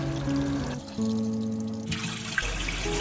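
Water is poured and drained from a pot while the soaking water of thin potato slices is changed for homemade wafers, giving splashing and trickling sounds that start, pause briefly and then resume up close.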